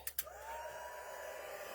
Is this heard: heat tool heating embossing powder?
yes